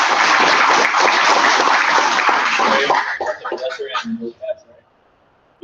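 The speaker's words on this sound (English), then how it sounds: "big round of applause for Dre, please." Audience applause at a Creative Mornings talk in Fort Lauderdale: loud, dense clapping for about three seconds, then thinning into scattered claps and fading to quiet.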